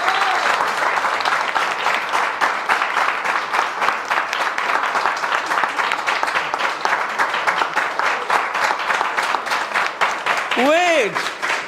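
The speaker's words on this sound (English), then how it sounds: "please clap for Mr. Upendra's team." A crowd at a debate competition claps loudly and steadily throughout, with voices talking over the applause and a brief rising whistle-like sound near the end.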